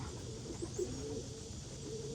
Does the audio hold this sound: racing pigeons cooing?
yes